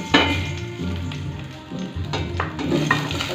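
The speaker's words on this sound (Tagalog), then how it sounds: "Gigisa natin yung sibuyas, bawang para medyo mawala-wala yung lansa." Onion and garlic sizzling in hot oil for squid adobo, a close crackling fry broken by stirring scrapes, with no one speaking.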